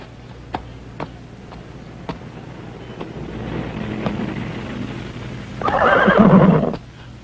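A horse gives a loud, shaky neigh close by near the end, after a stretch of scattered clicks, soft hoof-like knocks and wind noise.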